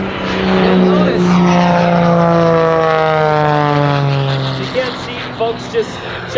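An aerobatic airplane flown by Sean D. Tucker roars past at the Oregon International Airshow 2019, a loud sustained engine drone whose pitch slides steadily downward as it passes, with an announcer talking over it.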